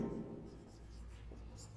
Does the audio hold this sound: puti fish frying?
no